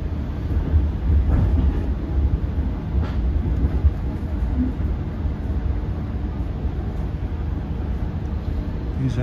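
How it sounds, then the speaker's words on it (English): An LIRR train engine runs on third rail in electric mode on a ride from Patchogue toward Penn Station, giving a loud, continuous low rumble with rough, uneven surges and occasional faint clicks, heard close from inside with no talking. "These engines run rough on third rail gaps in E mode."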